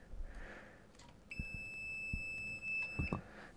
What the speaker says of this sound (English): You can see it's beeping.